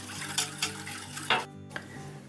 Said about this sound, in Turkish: Sütümüzün içerisine şekerimizi koyuyoruz ve çırpma telimiz yardımıyla